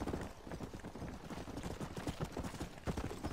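Zombie horse hoofbeats from Red Dead Redemption: Undead Nightmare, a steady galloping clip-clop running continuously at moderate loudness with no talk over it.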